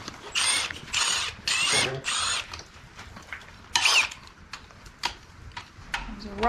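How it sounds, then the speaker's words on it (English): A hand ratchet loosens a hood bolt on a 4.8 LS engine in a shop, clicking in several quick rhythmic bursts, followed by fainter clicks and light handling noise. "I'll loosen up the hood bolt"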